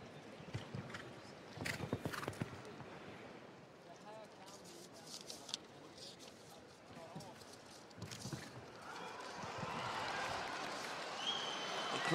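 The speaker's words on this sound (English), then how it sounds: "Crowd's already cheering." Arena crowd at an indoor show jumping event in Leipzig, a broad roar of cheering and applause that swells steadily toward the end, with hoof clops and scattered commentary voices earlier on.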